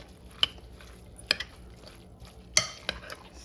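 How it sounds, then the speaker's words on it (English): Chicken melt filling mixed with sweet relish is stirred in a bowl, the spoon giving a few sharp scrapes and clinks at uneven intervals over a quiet background. "each time you put your stuff in, stir them up and see how it looks"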